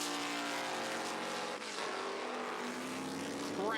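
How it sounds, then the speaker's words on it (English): A 1973 Lola T330 Formula 5000 race car crackles and roars through its exhaust onto the back straight at Manfeild, a loud, sustained engine note with a pitch shift midway as it passes. "Crackling through the exhaust pipes onto the back straight at Manfeild."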